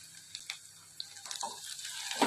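Potatoes go into a pan of onion, garlic and leafy greens, giving a faint, low sizzle with a few light clatters and stirring noises near the end.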